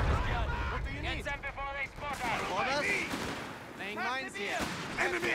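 Rapid bursts of enemy machine gun fire and explosions crackle through a Company of Heroes 3 battle, loud and dense across the whole stretch, mixed with shouted soldier voice lines.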